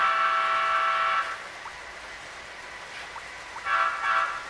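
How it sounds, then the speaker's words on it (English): A model passenger train horn: a sustained two-tone blare for about a second, then stops; after a pause a shorter horn blast sounds again, thin and slightly tinny. "turning the headlights on before sounding the horn"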